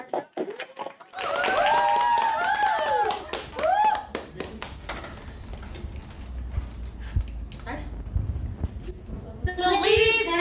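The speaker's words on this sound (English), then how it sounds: "let's clap our hands" A class group claps hands in a session, a burst of clapping that starts after a second and continues unevenly, with voices talking and rising over it and a sharper voice near the end.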